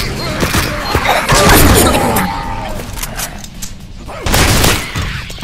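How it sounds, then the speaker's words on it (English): A grenade goes off in the zombie shooter game Tubbyland Outbreak, giving a loud booming blast among bursts of gunfire and crashing impacts, with a voice talking over the noisy action. "All right, grenade out."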